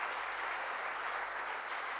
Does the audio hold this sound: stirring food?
no